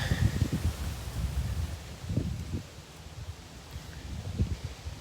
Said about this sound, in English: I hope you can still hear me over the wind